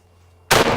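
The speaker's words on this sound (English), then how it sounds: "12 gauge slug against a bowling ball. Firing." A 12 gauge shotgun slug is fired at a bowling ball, a single sudden, very loud, close blast that cuts through a quiet lead-in and rings on briefly.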